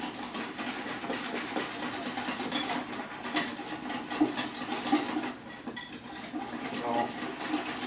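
An electric mixer whips lupin mug bread batter, a steady loud motor whir with rattling and scraping against the bowl, while someone talks over it.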